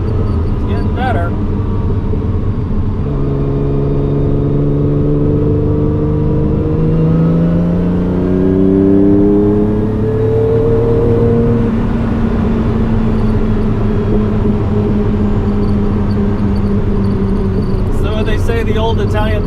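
A long-dormant car engine, a former non-runner, revs hard and repeatedly in an aggressive Italian tune-up, its pitch climbing and falling in sustained loud sweeps close by.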